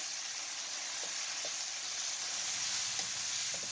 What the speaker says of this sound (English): I'm going to get this all stirred up and get this cooking.